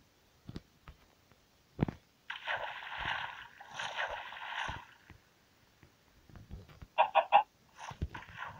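Blocky game chickens cluck in short bursts, several quick clucking phrases with soft thuds and small game sounds between them, fairly quiet overall.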